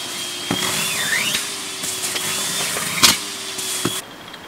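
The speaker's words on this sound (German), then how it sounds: "Wir haben einen Staubsauger bekommen, mit dem wir jetzt das Dachzelt saugen werden" A Henry vacuum cleaner runs while cleaning out a rooftop tent, giving a steady whirring drone with a thin high whine and occasional bumps and knocks of the nozzle against fabric and frame.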